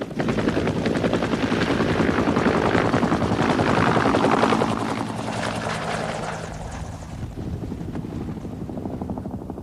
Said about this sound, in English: Some people suggested that the Cobra helicopter developed for air attacks in Vietnam was a quiet helicopter.